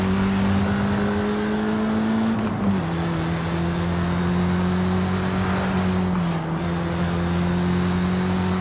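A 1999 Mitsubishi Lancer Evolution VI GSR with a 2.0-liter turbocharged inline-4, driven in Forza Horizon 5, droning loudly at steady revs with two brief dips as it shifts gears, no talk over it.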